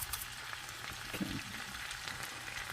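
Hash cooks in a pan with a soft, steady sizzle and faint crackle, quiet and continuous with no voices.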